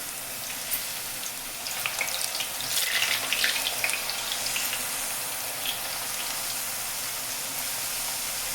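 Potato chips made from potatoes fry in hot oil as they are added one at a time, giving a steady, hissing sizzle with small crackling bursts, fairly close and without talk.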